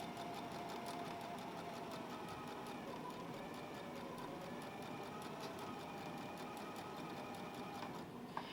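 A sewing machine stitches fabric at a steady, continuous hum driven by a foot pedal, its needle ticking rapidly and evenly throughout, fairly close and constant with no talking.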